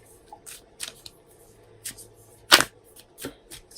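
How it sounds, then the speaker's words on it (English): Tarot cards riffling and slapping in a quick shuffle, with a sharp loud snap midway among softer papery flutters, close by and with no talking. "Let me shuffle these cards"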